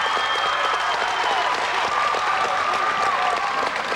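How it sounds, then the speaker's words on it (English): A packed high school basketball gym crowd roars and applauds after a game-tying 3-pointer at a 1992 Colonial League championship, Salisbury against Nazareth, a dense steady wall of cheering with no break. "Listen to this crowd."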